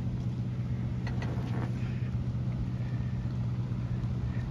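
A seaplane taxis across Manhasset Bay toward a dock, heard as a steady low engine rumble at a distance, constant throughout with no talking.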